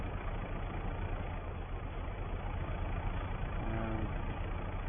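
A tractor engine idles steadily at a farm drill, a low, even rumble that holds constant and fairly quiet, with a faint tonal hum rising briefly near the end.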